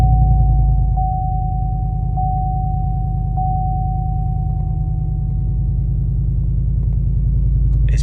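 A Chevrolet Silverado pickup with a 6.2-litre V8 and straight-pipe cat-back exhaust idles with a deep, loud, continuous rumble, steady throughout, heard from inside the cab with a faint constant whine.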